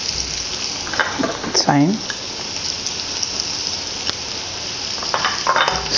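Chopped onions and curry frying in hot oil on a stove, a steady close sizzle running throughout, with a brief voice speaking over it partway through.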